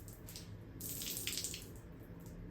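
Sweat-soaked shirt wrung out by hand, water splashing and trickling down in a soft, steady stream with brighter bursts of dripping, heard alone and fairly faint.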